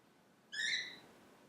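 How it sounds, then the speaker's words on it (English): A pet bird gives a single bright, chirping call lasting about half a second, close and fairly loud against a quiet room. "You hear Petey, my bird, just cheering me on."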